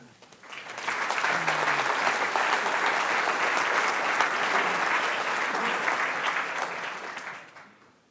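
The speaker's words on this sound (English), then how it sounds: "And I think that deserves an applause." A conference audience at a tech keynote bursts into sustained applause lasting several seconds, steady and dense, then tapering off toward the end.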